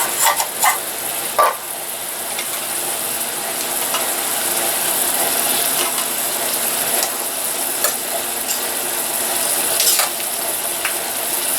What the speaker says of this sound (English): Stir it up a bit.